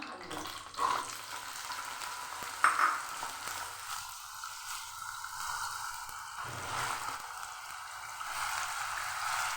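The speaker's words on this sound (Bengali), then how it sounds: "তেলটা গরম হয়ে গেছে এবার দেব কুচিয়ে করা" Chopped potatoes frying in hot oil for a Bengali ridge gourd, potato and egg curry, a steady soft sizzle with occasional stirring clatter, fairly quiet and continuous throughout.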